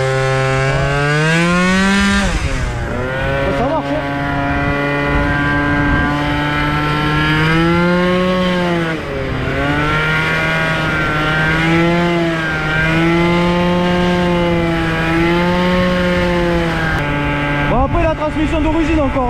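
A Piaggio Zip scooter fitted with a 70cc Athena kit is ridden hard, its two-stroke engine buzzing loud and close, repeatedly revving up in rising whines and dropping back between gear pulls.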